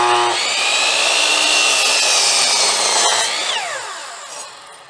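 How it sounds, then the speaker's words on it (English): A power saw whines up and bites through a wooden board in one loud, close cut lasting a few seconds, then the pitch falls as the blade spins down. "So when I line this board up to cut it"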